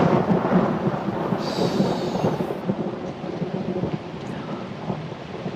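Deep, rolling thunder rumbles through a heavy downpour in a night storm scene from a period drama, the steady rain hiss continuing underneath without any voices.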